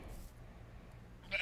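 A sheep in a video game bleats in a short, faint burst near the end, after a quiet stretch of low room hum.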